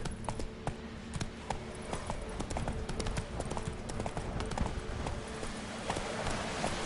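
Roach, a horse in The Witcher 3, gallops at full pace, its hooves striking in quick, close, rhythmic clip-clops over a soft background bed.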